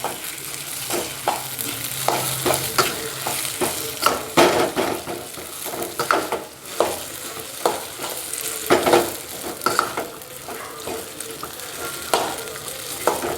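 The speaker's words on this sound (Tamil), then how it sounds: "நல்லா கிண்டி எடுத்துக்கணும்" Dough mixture stirred in a hot pan for a steamed rice-flour snack, with repeated scraping, tapping strokes of a spoon over a soft sizzle, irregular and close; no talking.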